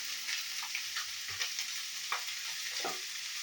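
Chili soya chunks frying in a pan with a continuous bright sizzle, close and steady, with small scattered crackles and a few stirring scrapes throughout, no talking.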